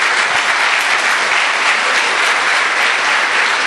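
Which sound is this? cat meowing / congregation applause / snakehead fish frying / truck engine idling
congregation applause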